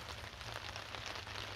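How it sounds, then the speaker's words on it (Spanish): Light drizzle falls steadily on an outdoor surface, a soft continuous patter with no voices, a low hum running underneath throughout. "Se vino la lluvia."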